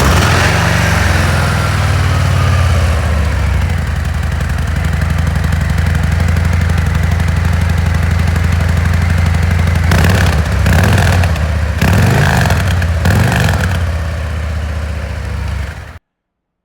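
A stock 2024 Harley-Davidson performance bagger fitted with titanium slip-on exhausts with carbon fiber tips idles up close, a steady low rumble with a few brief revs near the end before cutting off.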